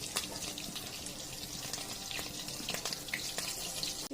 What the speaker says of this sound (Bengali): এবার কড়াইয়ে দিয়ে দেবো তেল।